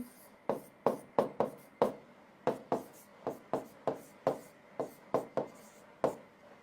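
White chalk taps and scrapes against a classroom board in quick, uneven strokes, about a dozen sharp clicks with short scratchy tails, close and clear over a quiet room.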